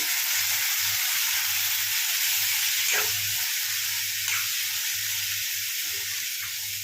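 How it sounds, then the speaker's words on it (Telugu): Soaked chana dal fries in hot oil with tomatoes in a pan, a steady close sizzle and hiss with a few soft stirring scrapes and no talk. "ఒక్క నిమిషం ఇలా నూనెలో ఫ్రై చేయండి పప్పునైతే నూనెలో వేగితే బాగుంటుందండి"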